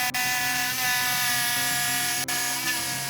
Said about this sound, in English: we're going to cut this up with a jigsaw